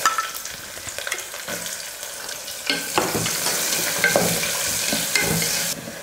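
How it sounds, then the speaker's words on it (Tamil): Sliced onion with cinnamon, star anise, cloves, cardamom and curry leaves sauté in hot oil for parotta salna, crackling and sizzling steadily with several clanking stirs of a utensil against the pan. "வெங்காயம் இந்த அளவுக்கு வதங்கினா போதும், ரொம்ப கலர் மாற தேவையில்லை"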